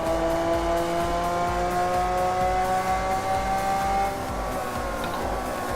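A Lamborghini engine droning at steady high revs around a race track, with a smooth sustained whine, a slight easing of pitch near the end and no talking.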